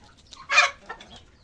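A single loud honk from geese in a farmyard stands out, with softer calls just before and after.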